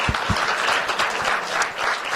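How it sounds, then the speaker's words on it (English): Guests at a BRICS spousal luncheon give a round of applause, a dense, lively burst of clapping from a gathered crowd, fairly close and sustained without speech. "Please give them a round of applause."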